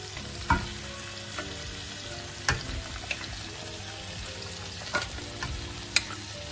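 Lamb meat fries for a dhaba-style karahi with a steady sizzle, and a spatula stirs it, knocking sharply against the pan now and then.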